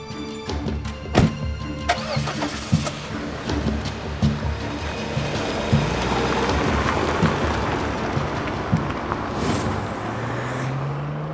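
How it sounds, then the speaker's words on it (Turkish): A car engine turns over and starts amid rain on surfaces, with clicks and knocks early, then a steady rumble building as the car pulls away, ending in a rising whine. "Bir araba ayrıldı."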